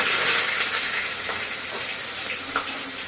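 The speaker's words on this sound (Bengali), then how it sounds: "ওই কড়াতে আলু ভাজার জন্য দিয়ে দিচ্ছে" Potatoes sizzle steadily as they fry in a wok of hot oil in a home kitchen for a vegetarian meal, a continuous hiss with faint clinks and stirring scrapes, close and even throughout.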